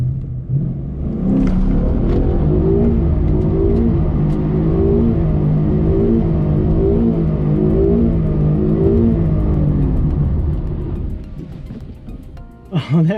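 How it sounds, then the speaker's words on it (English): Stock 2012 Mustang GT with traction control off spinning through a donut, its V8 held at a loud, steady revving drone with rhythmic wavering pitch for about ten seconds before easing off; voices are faintly present. "I am about to try my first ever donut."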